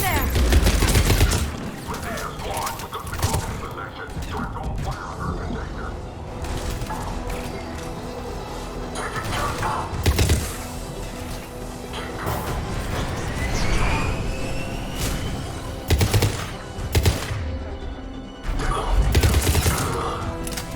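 Combat gunfire from the video game Mass Effect 3 at a checkpoint under attack, with scattered loud shots and heavier blasts over a continuous battle soundscape and game music, some voices mixed in.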